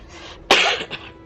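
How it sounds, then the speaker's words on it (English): A single sharp cough bursts out close to the mic, followed by a smaller second cough, in an otherwise quiet room. "Got a little bit of a cough."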